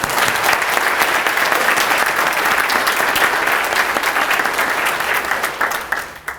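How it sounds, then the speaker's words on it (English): An audience applauds at the ribbon cutting for the Appalachian Aquatic Conservation Center. The dense, sustained clapping continues steadily and then tapers off quickly at the end. "Let's give Robert a great applause."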